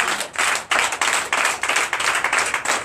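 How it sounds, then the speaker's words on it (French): A church congregation claps in rhythm during a Sunday service, loud and close, with steady beats repeating through the whole stretch and a brief dip before continuing. "Donnez l'acclamation à notre Seigneur Jésus"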